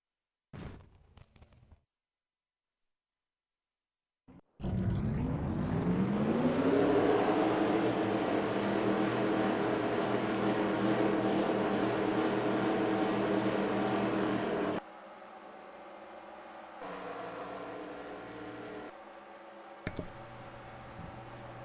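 A pack of 40 race car engines rev up together and roll out onto the Texas speedway for a pace lap, rising from silence into a sustained loud, droning roar that later drops to a lower, steadier rumble.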